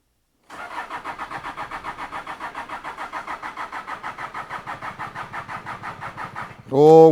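An old Toyota Hilux 4x4 engine, parked for 14 years, cranks with a rapid, even rhythmic chugging for several seconds, then suddenly catches and roars louder at the end.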